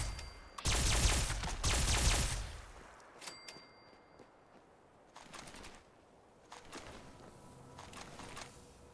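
Shotgun blasts in the video game Fallout 76, two heavy close booms early, followed by fainter scattered shots and rustling game sounds.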